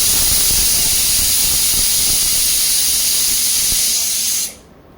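Steady, loud hiss of steam escaping from a pressure cooker cooking red peas usal over medium heat, continuous for several seconds before cutting off sharply.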